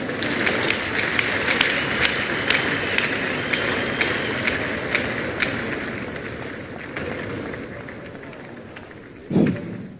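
A church congregation at a large worship encounter claps together, a thick, steady roar of many hands that gradually fades, ending with a single dull thump.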